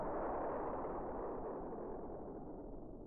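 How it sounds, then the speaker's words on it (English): Distant explosions rumble from a video game as one continuous, muffled roar, steady and then slowly fading, with no voices over it. "These are distant explosions"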